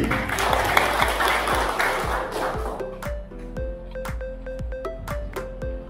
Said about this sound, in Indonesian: Berikan tepuk tangan kepada Pak Budi